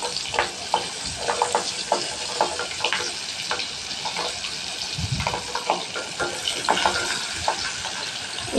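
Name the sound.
crab frying in oil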